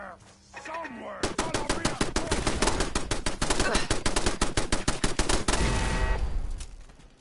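Rapid machine-gun fire from a turret in the video game Fallout 4, a loud, dense stream of sharp shots lasting several seconds, preceded by brief softer game sounds and ending abruptly.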